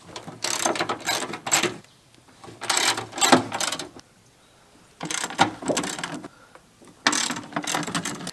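A 13mm socket on a ratchet clicks rapidly in several bursts while removing the battery bracket bolts on a Chevy Suburban, close and crisp, with short pauses between runs of clicking.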